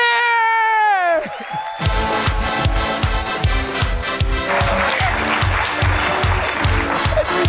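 Studio audience on a Pakistani talk show bursts into loud applause and cheering with whoops for an arriving guest, rising after a short musical sting and carrying on steadily over a pounding beat.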